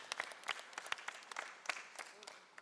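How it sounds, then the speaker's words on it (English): Applause for legislators at a press conference on gun violence, scattered close claps and clapping from a modest crowd that fades out. "Give them a round of applause"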